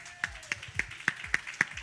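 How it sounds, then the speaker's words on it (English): A few people clap at a community outreach session, seven sharp claps in a slow, uneven rhythm, fairly close and isolated rather than a full applause. "Clap it up."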